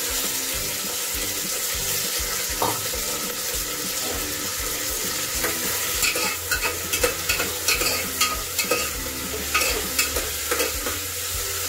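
Washed vegetables go into hot oil with cumin in a pressure cooker, bringing a steady close sizzle, then a run of wet scraping stirs and spoon clatter in the second half, with no talking.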